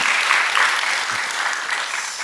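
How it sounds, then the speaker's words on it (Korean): A church congregation claps for visiting missionaries during a Wednesday service, a steady wash of applause close and loud throughout. "여러분 박수 한번 해주세요"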